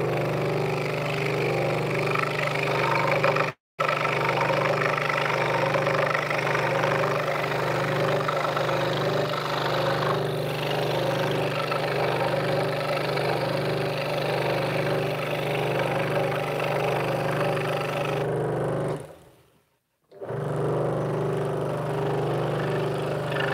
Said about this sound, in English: because I've got a scroll saw, I'm just using that